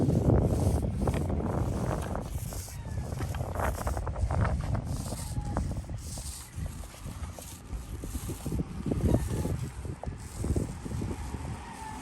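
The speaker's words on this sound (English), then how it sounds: "But the wind is kicking our butt." Gusty wind buffets the microphone in uneven rumbling bursts, with scattered clanks and knocks of mobile home roof replacement work nearby.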